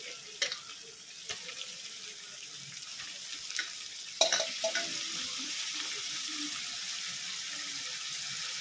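Washed raw prawns go into a hot pan with fried ginger. A steady, close sizzling hiss runs throughout, broken by a sharp clatter near the middle as they land, with no talking.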